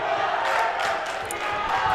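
Crowd noise fills a loud gym during a boys high school volleyball match between Eagan and Shakopee, with Sabers and Wildcat fans cheering and yelling in a steady, dense roar.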